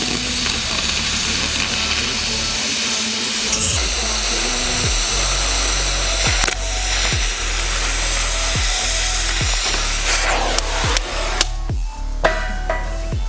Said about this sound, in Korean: 용접 작업이 마무리되고 나면 시공될 길이에 맞춰 H빔 재단 작업을 진행해줍니다.